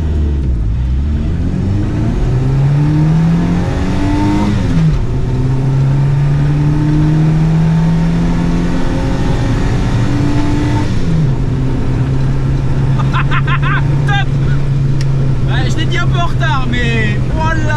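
A Renault 4L fitted with a swapped Zenith 32 carburettor revs hard from standstill, its engine note climbing through several gears with brief dips at each shift, loud and close throughout.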